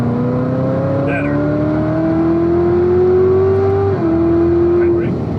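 A 2019 Corvette ZR1 on a race track, its engine droning and climbing steadily in pitch under acceleration, loud and close, with a brief dip and recovery near the end and a voice talking over it.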